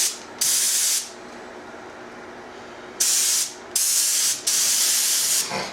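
A spray gun lays down gel coat clear mixed with a wax-additive patch booster in a boat gel coat repair, sending out four loud, close bursts of hissing spray of varying length separated by quiet pauses.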